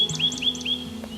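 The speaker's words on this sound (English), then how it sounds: "Like this lake and the sound of the birds." Small birds sing beside a lake, a quick series of three or four bright, high chirps repeating over a low, steady background hum.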